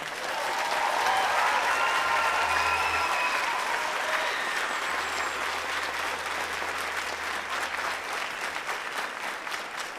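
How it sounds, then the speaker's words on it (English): Sustained audience applause at a BeatALS benefit concert in a high school, dense steady clapping filling the room with a few cheers and whistles, continuous and loud. "So can we give Paul one more round of applause tonight?"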